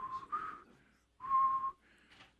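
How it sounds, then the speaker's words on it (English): A person whistles a few short, wobbly tones in separate bursts with pauses between, close and fairly soft, with no talking. "Santa never could whistle very good."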